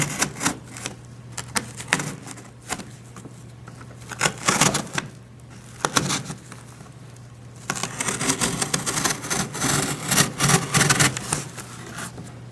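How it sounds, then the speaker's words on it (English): Cutting out a craft dungeon tile for tabletop role-play, close scraping and rasping cuts in quick irregular bursts with short pauses, over a steady low hum. "Cut this corner here."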